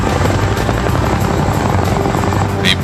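A Chinook tandem-rotor heavy-lift helicopter drones loudly and steadily, its rotor throb and engine whine filling the air without pause.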